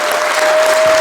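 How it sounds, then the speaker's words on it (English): An audience at a Play Expo 2024 talk with game designer Gary Carr of Two Point Studios applauds him, a dense, steady wash of clapping with a faint whistle-like tone running through it. "give Gary a round of applause."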